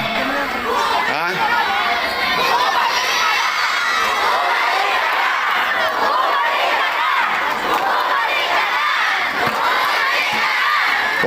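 Dense, loud crowd at a political rally in the Philippines, shouting, cheering and chattering continuously, with children's shrieks rising out of the steady roar throughout.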